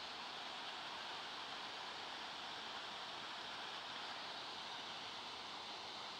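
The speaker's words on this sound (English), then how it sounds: "I believe I can finally see the waterfall" Steady, broadband rush of the Boyana waterfall on Vitosha mountain, falling from high rocks, heard as a continuous, even roar with no breaks and no voices.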